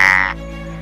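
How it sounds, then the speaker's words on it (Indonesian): Shovel-headed tree frog from the Pacific coast of Mexico giving a loud, brief, tonal call that cuts off quickly and leaves a low steady hum. "katak pohon berkepala sekop atau shovel-headed tree frog"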